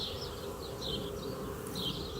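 A swarm of honey bees clustered in a tree gives a steady, close droning buzz with a few louder passes of individual bees over a low outdoor rumble, with no talking.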